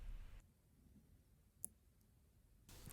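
A single faint, sharp pin click while picking a Medeco M4 lock, isolated in a quiet room between soft handling noises at the start and end.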